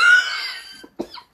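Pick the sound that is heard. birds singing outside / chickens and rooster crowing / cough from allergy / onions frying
cough from allergy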